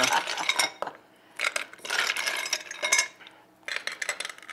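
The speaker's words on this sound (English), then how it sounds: "Now we add the ice, which I love to spill" Ice cubes clatter into a Negroni glass and spill across a bar counter in three bursts of clinks and rattles, with quiet gaps between.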